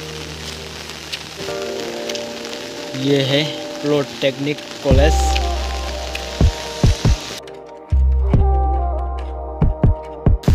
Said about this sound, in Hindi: देख सकते हो पीछे पूरा बारिश ही बारिश है।